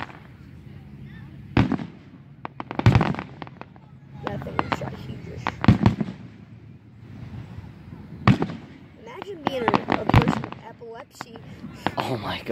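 Fireworks burst in a string of sharp cracks and booms, some single and some in rapid crackling clusters, spaced unevenly over a murmur of nearby voices talking between the blasts.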